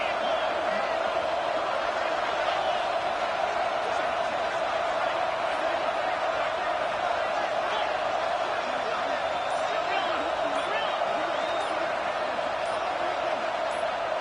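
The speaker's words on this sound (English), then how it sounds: "with this place rocking, the crowd forces a false start" Loud, steady stadium crowd roar from College Football 26 gameplay as the home crowd rocks on a fourth-and-goal play, a continuous wash of noise with no breaks.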